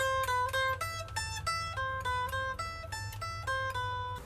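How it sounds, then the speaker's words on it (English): A Danelectro electric guitar plays Eddie Munson's trailer riff very slowly, a short repeating pattern of clear single notes in a steady rhythm over a low hum, moderately loud with nothing else over it. "played super slowly by a mid-guitar player, using a Dan Electra whose neck is probably around the same length as a ukulele"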